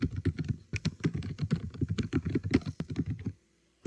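Dense, rapid clatter of keys on a computer keyboard as an email address is typed, steady close-up tapping for about three seconds before stopping abruptly into silence.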